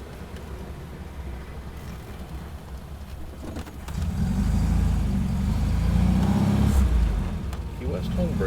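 A 1970 MGB sports car drives around Key West, its engine rumbling under the occupants' conversation and growing louder partway through as it accelerates.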